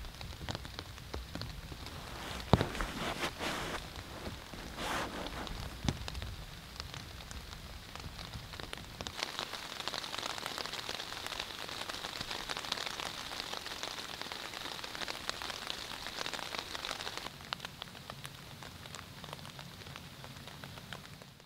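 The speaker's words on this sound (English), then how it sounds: "right now I'm just gonna enjoy the sound of the rain and lay down for a little bit and just relax" Steady rain drums on a small tent, a dense, continuous patter from close overhead with occasional louder drips, heard alone for the whole stretch.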